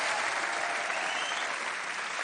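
A studio audience applauding stage technicians, set decorators and prop crew on a French hypnosis TV show, dense sustained clapping from a large crowd at steady loudness throughout.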